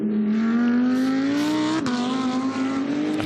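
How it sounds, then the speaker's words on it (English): A Porsche 911 GT2 race car accelerating hard onto the Mistral straight at Paul Ricard during a GT2 European series race, its engine note rising steadily and loud, with one sharp gear change partway through. "back onto the power, and the gorgeous-looking Porsche 911 GT2 onto the Mistral straight"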